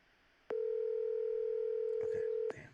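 Outgoing telephone call ringing unanswered: a single steady ring tone holds for about two seconds and then cuts off, with brief clicks and faint voices around it.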